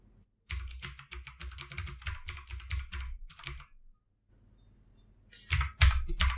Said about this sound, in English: I have to type here